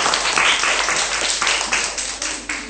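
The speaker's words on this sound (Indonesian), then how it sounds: "Jadi, berikan tepukan untuk diri sendiri." A primary school class clapping for themselves in a classroom, a short burst of brisk, close hand claps that thins out toward the end.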